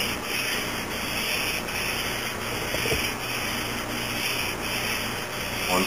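Steady abrasive rubbing of an Intel Q6600 CPU's metal heat spreader being lapped on wet sandpaper, a continuous close scraping hiss with faint rhythmic strokes and no talk.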